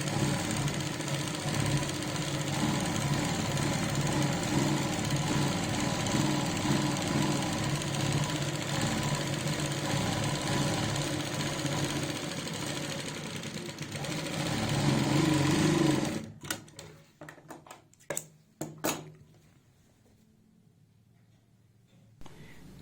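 A sewing machine runs steadily while stitching a salwar, a continuous close whirring drone for about fifteen seconds before stopping, followed by a few scattered clicks and handling taps in near quiet.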